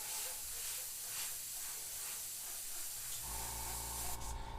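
An airbrush mists candy paint over an airbrushed skull artwork, giving a steady, close hiss of spray that continues throughout, with the air tone shifting partway through.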